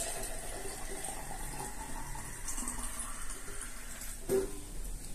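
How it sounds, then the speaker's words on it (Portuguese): Water running steadily from a tap into a jar being filled for cooking beans, a continuous splashing hiss in a kitchen, close and moderately loud. "E aqui eu vou encher d'água."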